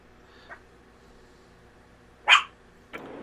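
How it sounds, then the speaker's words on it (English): A chihuahua barks from close by, once faintly and then once sharply and loudly. A short yip follows in an otherwise quiet room. "Whose chihuahua is barking?"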